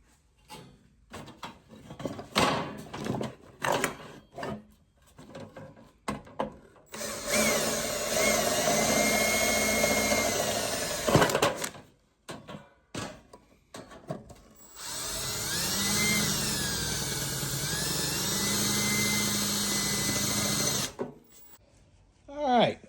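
A drill bores holes in sheet metal for a powder coat regulator panel, in two long, steady whining bursts separated by short spoken remarks and workshop clatter.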